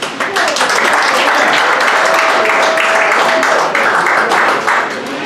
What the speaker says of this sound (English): How about a big round of applause for your bartenders?